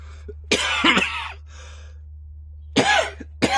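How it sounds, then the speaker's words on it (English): Several harsh coughs in two bursts with a short pause between, close and loud, over a low steady hum. "Bloody damn cough"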